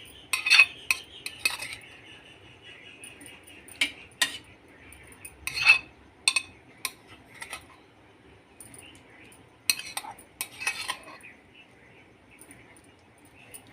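Raw papaya pieces tipped into sugar syrup in a pot for tutti frutti, heard as a close series of metallic clinks and scrapes of a spoon against the pot, in uneven bursts with quiet gaps between.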